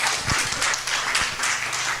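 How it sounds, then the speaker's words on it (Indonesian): A church congregation claps for Jesus at a sermon, a dense, steady patter of many hands with a few sharper slaps standing out, moderately loud and continuous throughout. "Saya tepuk tangan buat Tuhan Yesus."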